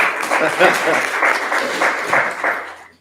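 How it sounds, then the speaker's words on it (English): A small room at a drug court program meeting gives a grant writer a short round of applause, with steady clapping and voices mixed in before it tapers off. "Yeah, give him a round of applause."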